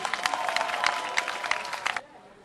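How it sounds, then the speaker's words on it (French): An outdoor village gathering at a memorial tribute breaks into brisk applause, with many sharp hand claps over a crowd murmur for two seconds before the clapping stops abruptly and faint room noise remains. "Applaudissez pour elle."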